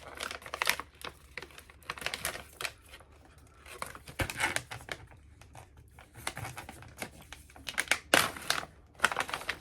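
Crinkling and crumpling of a resealable bag of original Belgian chocolate tiny bites, irregular plastic rustles and crackles in bursts at close range with no talking.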